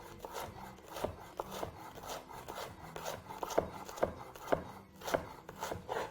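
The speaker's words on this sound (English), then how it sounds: "And very simply proceed to finely chop your onion." A knife finely chops an onion on a cutting board for soy burgers, a steady series of close, sharp taps and scrapes repeating about twice per second with no voices.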